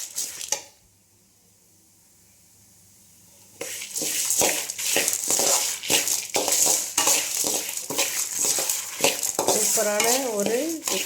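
Curry leaves, dried red chillies and black urad dal dry-roasting for idli podi, stirred in a pan with scraping and rustling strokes; a quiet pause comes first, then steady close stirring, and a voice talks over part of it.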